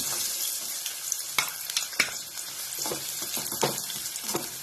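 Onion frying in hot oil in a pan, a constant crackling sizzle dotted with sharp taps and scrapes of a spoon stirring.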